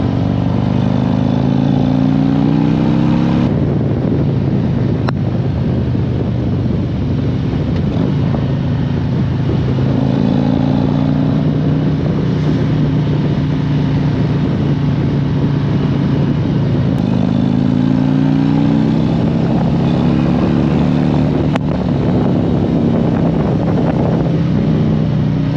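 A 2020 Harley-Davidson Street Glide CVO with a stage 1 upgrade on a ride, giving a steady, loud, deep engine drone with rising and falling revs and continuous wind rush throughout.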